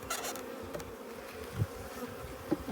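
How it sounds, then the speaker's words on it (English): Honeybees buzz steadily and up close around an open hive while a nuc is installed, a continuous insect drone with a few louder passes as individual bees fly near. "This little bee, get back there, girl."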